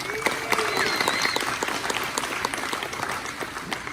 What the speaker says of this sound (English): Can we give a round of applause to Ryan Burns?